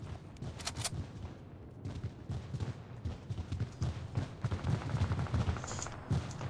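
Rapid bursts of gunfire inside the Fortnite video game, crackling like fireworks in repeated uneven volleys at moderate distance, continuing steadily throughout with faint background noise.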